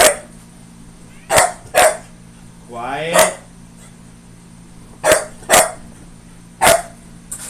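A pet dog named Kaz barks repeatedly indoors, sharp close barks in pairs and singles with a whimpering whine between them, while someone speaks briefly.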